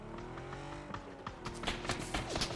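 A car engine revs and rises in pitch as the vehicle accelerates in PUBG, with a few tire-squeal-like chirps; the sound is synthetic, like a driving game, and no one speaks.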